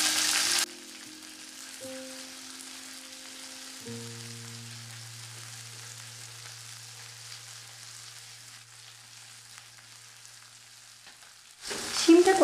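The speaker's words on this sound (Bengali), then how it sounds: "এবার শিমটা কড়াইয়ের মধ্যে নিয়ে নেব।" Flat beans hit hot oil tempered with black cumin and a dried chili in a wok, giving a soft, steady sizzle throughout. A few sustained tones sit on top, and there is a brief louder burst at the start and end.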